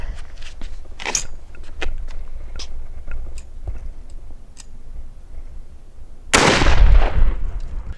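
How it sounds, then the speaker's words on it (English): A rifle fires at a German WW2 steel helmet, one loud close blast near the end. Before it come sparse clicks and handling taps from the shooters getting ready. "we're gonna use a rifle instead of a pistol"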